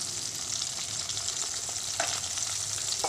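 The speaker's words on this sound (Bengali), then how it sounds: "মাছটা এই ভাজছি" Fish fries in oil in a pan, a constant close hiss and sizzle with small crackles and occasional stirring sounds, with no talking.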